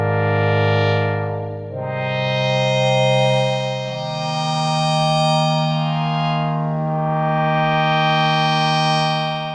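Polyend synthesizer played dry with no effects, sustained harmonic tones holding long notes that swell and shift in pitch, clear and steady with no voices.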